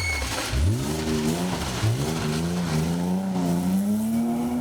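A BMW rally car on a special stage accelerates hard, its engine note climbing and dipping through gear changes, then rising steadily in a loud, close, continuous run.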